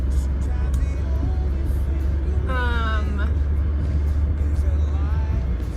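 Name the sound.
car driving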